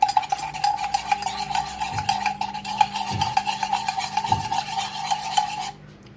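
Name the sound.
spoon stirring Turkish coffee mixture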